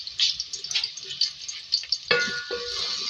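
Chopped medium onions frying in oil in a pan for hotel-style aloo baingan, a steady bright sizzle with stirring scrapes and a louder surge of crackling near the end, close and with no talk.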